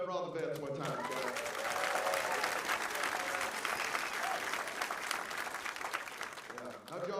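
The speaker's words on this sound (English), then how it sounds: "now let's clap it up for all the vets one time" A comedy club audience claps for veterans in a full burst of applause that rises and holds, with the comedian talking briefly at the start and end.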